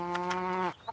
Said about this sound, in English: That is a cow, Leo.